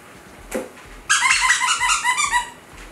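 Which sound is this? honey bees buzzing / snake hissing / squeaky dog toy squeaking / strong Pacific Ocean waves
squeaky dog toy squeaking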